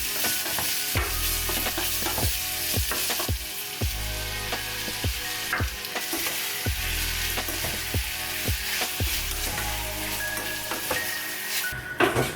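Spices, ginger and mango frying in a pan for chutney, with a steady sizzle broken by repeated scraping stirs of a spoon against the pan, close and continuous with no voices.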